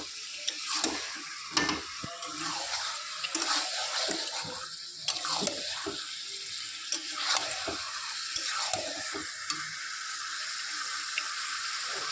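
Meat for a roti-and-meat dinner is slowly fried and stirred in a pan, a soft steady sizzle under repeated scraping and clattering strokes of a spatula, close and fairly quiet, with no talk.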